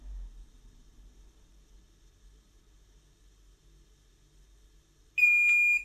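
After near silence, a heat press timer's shrill electronic beep starts abruptly at the end of the pressing time and holds as one continuous high tone for under a second before the clip ends.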